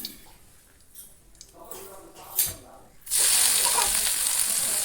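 Safflower leaves seasoned with chili, salt and turmeric hit hot oil on a griddle with a sudden loud, steady sizzle after a few seconds of quiet kitchen noise and faint clatter.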